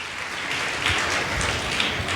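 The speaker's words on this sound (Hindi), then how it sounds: "ऑडियंस तालियां बजनी चाहिए।" A studio audience at a Chhattisgarh state-level quiz contest claps together, a dense even patter of many hands lasting about two seconds, with no speech.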